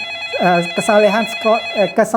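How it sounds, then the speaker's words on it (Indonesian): An incoming call on a telephone rings with a clear, melodic ringtone of repeated rising tonal bursts, loud and close. "ada telepon masuk, kita angkat terlebih dahulu"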